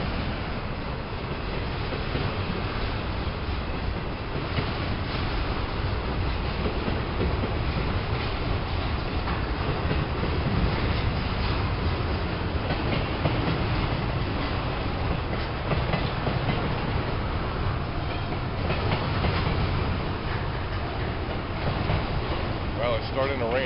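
A Norfolk Southern freight train hauling auto racks rolls past close by in rainy weather, a continuous loud rumble with rhythmic wheel clatter on the rails and a few voices under the noise.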